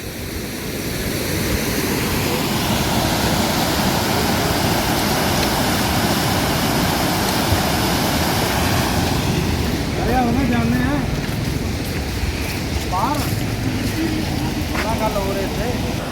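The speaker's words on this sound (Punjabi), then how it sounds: "ਬਹੁਤ ਜ਼ਿਆਦਾ ਤੇਜ਼ੀ ਨਾਲ ਪਾਣੀ ਬਹੁਤ ਜ਼ਿਆਦਾ ਤੇਜ਼ੀ ਨਾਲ ਪਾਣੀ ਆ ਰਿਹਾ ਹੈ" Fast floodwater rushes past an embankment on the Ghaggar river in a steady, loud, roaring wash that never lets up, with faint voices briefly rising above it near the end.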